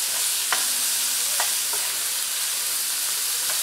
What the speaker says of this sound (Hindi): इसको अच्छी तरह से मिक्स कर दें।